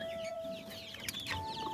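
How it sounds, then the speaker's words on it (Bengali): Native Bengal chicks about one and a half months old cheep in thin, high peeps, a few close calls over a faint farmyard background. "এই যে এগুলো হলো দেশি মুরগির বাচ্চা"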